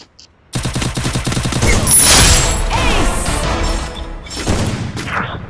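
Rapid bursts of gunfire from the video game Free Fire start abruptly after a brief silence, a loud rattling fusillade with crashing impacts that thins out toward the end, no voices heard.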